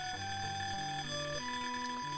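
A ringing alarm in the 1994 adventure game Death Gate, a steady electronic tone with shifting stepped pitches over a continuous game music bed, loud and sustained throughout.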